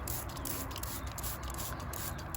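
A steady, unbroken hiss of spray is aimed at roses covered in aphids, holding at an even level throughout with no talking.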